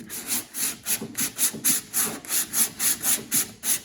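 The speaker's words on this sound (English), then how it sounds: "as he sands it with the hard block, he'll be able to reveal where the dents were at." Hard sanding block rubs back and forth over car body filler on a dented panel, a loud close rhythmic rasp of steady strokes, about three per second, with no talking.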